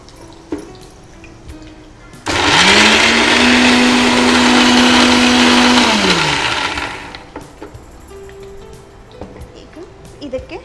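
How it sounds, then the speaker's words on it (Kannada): A kitchen mixer grinder grinds two onions into a fine paste, a loud steady whirring roar that starts abruptly, holds with a rising then level motor whine, and winds down, with brief talk and clatter around it. "ಈರುಳ್ಳಿನ ನುಣ್ಣಗೆ ರುಬ್ಕೊಡ್ಬೇಕಾ ಮಿಕ್ಸಿಯಲ್ಲಿ?"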